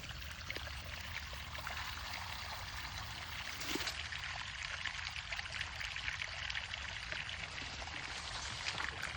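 Water drains from a pond through a siphon hose in a steady, soft gushing stream that continues unbroken at low volume throughout.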